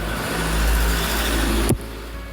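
Loud, steady rumble of a heavy vehicle engine close by, swelling as it passes, then cutting off abruptly near the end.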